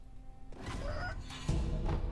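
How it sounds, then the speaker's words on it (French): Chickens cluck in the video game Sekiro, short clucks against a dense game soundscape, with a louder burst of sound near the end. "Il y a des petits poulets qui font mal ici."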